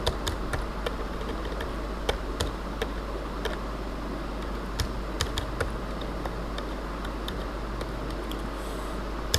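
Steady keyboard typing while JavaScript code is entered, with fast, evenly scattered key clicks over a constant low background hum, close and moderately loud throughout.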